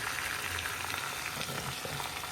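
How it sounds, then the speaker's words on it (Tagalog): Chicken pieces frying in hot oil for Bulacan-style chicken asado, giving a steady, dense crackle and sizzle that stays close and even throughout, with no voices. "Pero hindi ito ni-roast natin. Piniprito natin ito."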